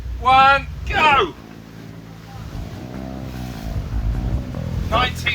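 Two Princess F55 motor yachts, 1900 horsepower and 30 tons each, roar as they accelerate side by side in a drag race; a steady low engine drone over wind and water, with loud voices shouting near the start and again at the end.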